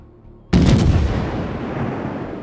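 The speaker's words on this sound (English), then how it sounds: "Shots out on that Miyoko." USS Pensacola cruiser's main guns firing at the Myoko in a naval video game: a single sudden, loud blast with a booming low end that rolls out into a long fading rumble.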